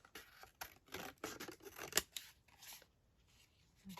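Scissors snipping through paper at close range, with a series of quiet, irregular cuts followed by a brief pause and a final snip.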